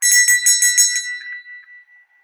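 A bright bell rings in a quick series of about six strikes, then its tone lingers and fades away over the next second.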